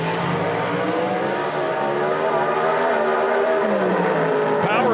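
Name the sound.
Mountain Motor Pro Stock drag racing car engine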